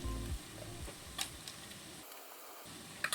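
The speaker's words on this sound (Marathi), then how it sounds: "लसूण आणि खोबरं घालून दोन मिनटं झाली आहेत छान खमंग परतून झालाय" Garlic and grated coconut stir-fry in a pan over a wood-fired chulha, a quiet sizzle with a few brief clicks and scrapes of stirring and a low hum at the start.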